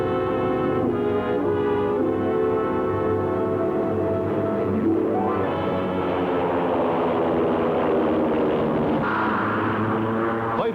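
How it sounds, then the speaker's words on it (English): World War II fighter planes escorting bombers high over Asia in 1943 drone with steady, layered propeller engine tones, a loud continuous roar with a pitch sweep as aircraft pass, no talking. "Fighter planes escort the bombers as the squadron flies high over Asia."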